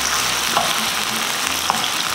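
Loud, steady sizzling of chicken frying in a pan, with occasional scraping and clinks as it is stirred.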